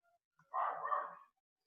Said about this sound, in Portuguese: se vocês ouviram um latido de cachorro